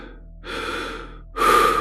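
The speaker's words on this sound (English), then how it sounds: "He was breathing heavily." Heavy breathing from a man in a dark bunker horror story, two long, close, rasping breaths, the second louder and harsher, with no speech.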